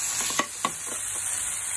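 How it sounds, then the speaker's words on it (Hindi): Tomato going into golden-brown masala in a pan: a constant bright sizzle with a few quick scraping stirs near the start, no voices. "गोल्डन ब्राउन हो गई तो मैं टमाटर ऐड कर रही हूँ"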